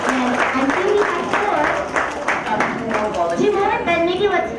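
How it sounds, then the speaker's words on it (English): An audience at a business school student talk gives a round of applause, with scattered, moderately loud clapping running under a voice speaking over it. "So can we have a huge round of applause to encourage all of our participants?"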